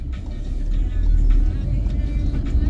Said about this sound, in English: what that car was flying down on the left hand side here